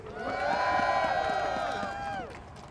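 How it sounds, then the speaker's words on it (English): A crowd at a rally opposing a Peoples Gas rate hike cheers and applauds Congressman Quigley, a loud, sustained swell of voices and clapping that fades slightly near the end. "A big round of applause for Congressman Quigley"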